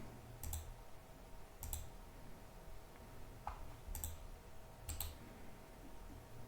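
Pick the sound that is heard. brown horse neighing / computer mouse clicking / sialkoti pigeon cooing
computer mouse clicking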